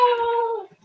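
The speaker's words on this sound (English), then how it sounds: "sorry guys about the dog." A dog lets out a single short howl, loud and close, trailing off after under a second.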